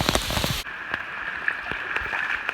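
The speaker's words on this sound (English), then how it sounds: "rainy" Rain falls steadily on a mountain trail along the Appalachian route, a dense continuous patter with scattered louder drops striking nearby surfaces, close and fairly loud with no talking.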